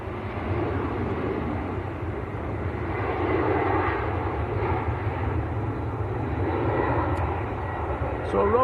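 A TAP Air Portugal airliner departing Manchester Airport for Lisbon, its engines a distant, steady low roar rising slightly midway, while people talk over it.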